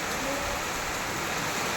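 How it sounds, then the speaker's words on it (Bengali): Rain falling under a heavily clouded sky, a steady, dense hiss of drops close by with no breaks and no voices. "তার মধ্যে ওই বৃষ্টি।"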